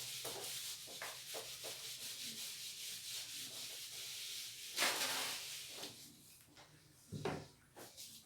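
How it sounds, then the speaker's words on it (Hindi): A teacher rubs a classroom board clean with steady, close scrubbing strokes in a quiet room, the friction sound continuing for several seconds with a few louder swipes near the end. "by the time I will रब द बोर्ड"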